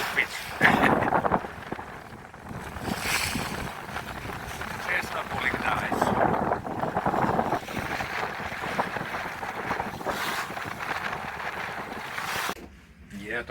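Strong headwind buffets a sailboat in an archipelago, gusty roaring wind noise rising and falling over the microphone with water sounds beneath, and people talking over it.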